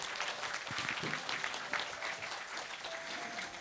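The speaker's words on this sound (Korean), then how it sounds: "박수로 모실게요" Conference attendees clap to welcome the event organizers forward, a moderate, fairly distant wash of applause under faint crowd murmur with a brief voice in the background.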